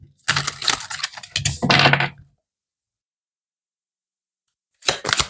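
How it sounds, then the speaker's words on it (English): A deck of oracle cards is shuffled in quick riffling bursts, two close crisp flurries, then a pause and a short burst at the end, with no talking. "One more shuffle."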